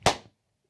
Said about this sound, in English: This is the sound of two hands.